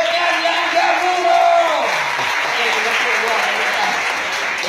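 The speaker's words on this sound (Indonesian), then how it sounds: "berikan tepukan kepada kawan kamu yang berani datang ke hadapan pertandingan" Students at a new-student orientation session clap loudly for classmates who came forward for a contest, a broad roar of applause with voices and a shout riding over the start before settling into steady clapping.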